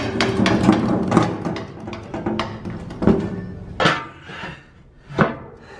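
A steel belly pan for a Vermeer BC1500 is dropped into place, giving several sharp metallic clanks and bangs spaced a second or so apart, close and fairly loud, with quieter scraping and knocking between them.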